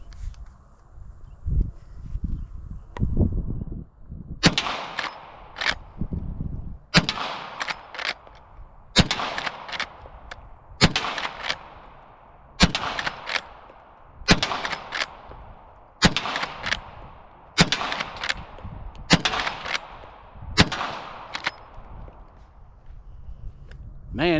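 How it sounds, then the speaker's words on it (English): Outdoor shots from a Smith & Wesson 1854 lever action rifle in 45 Colt ring out as about a dozen loud, sharp reports, evenly spaced with pauses for cycling the lever between them. "I'm just trying to get out and shoot it."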